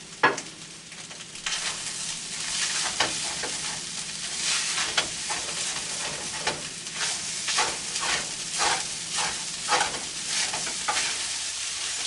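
Shrimp fried rice sizzles steadily in a hot pan while a spatula repeatedly scrapes and stirs across the pan bottom, giving a run of close, rhythmic scratching strokes over the constant frying hiss.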